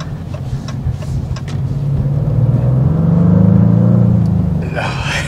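Deep rumbling engine note of a 2024 Maserati GranTurismo Trofeo swelling under a light throttle blip, heard from inside while driving in Miami, rising and easing off over a few seconds.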